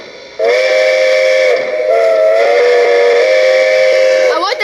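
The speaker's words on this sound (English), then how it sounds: "I like that two-tone whistle." Two-tone steam whistle from a Lionel Strasburg 90 model locomotive with fan-driven whistle steam, sounding loud and steady in one long sustained blast with a faint hiss, ending in a brief trailing flourish.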